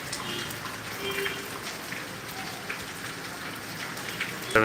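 Heavy rain pouring steadily in Tangail, Bangladesh, a dense continuous hiss of drops on surfaces, close and even throughout, with a brief cough near the end.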